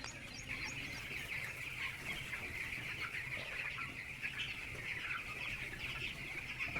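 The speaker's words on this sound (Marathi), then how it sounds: "आता आम्ही तुम्हाला आमच्या बॉयलर कोंबड्यांची पोल्ट्री फार्म दाखवणार आहे" Broiler chickens cluck and chirp continuously in a dense, busy flock on a poultry farm, a steady chorus of birds close by with no talking.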